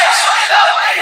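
Crowd at a religious bayan gathering loudly shouting a religious slogan in unison, a brief, dense roar of many voices close and full throughout.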